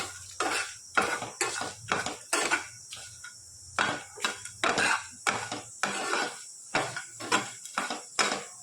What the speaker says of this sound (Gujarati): બધી વસ્તુને આપણે સરસ મિક્સ કરી અને શેકી લઈશું